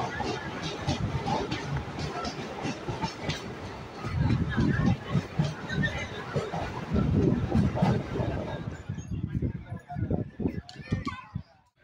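A Tambaram to Tiruvannamalai passenger train rolls along the rails with a rumbling rhythmic clatter, while people talk and children's voices carry over it; the noise eases toward the end.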